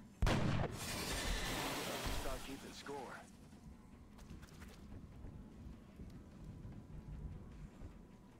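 A single sharp, loud gunshot in XCOM: Enemy Unknown cracks at the start, followed by a rumbling reverberant tail and faint scattered impacts fading into quieter background ambience.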